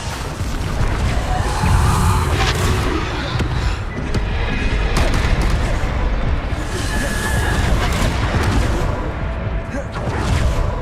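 Repeated Bombarda blasting spell explosions in the Hogwarts Legacy video game: loud, heavy booms and crashing impacts land one after another over a dense, rumbling combat backdrop.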